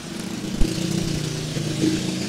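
A DeWalt D25144K SDS rotary hammer drill fitted with an 8 mm bit runs with a steady, loud motor whine and a rapid hammering rattle, with a brief knock near the start.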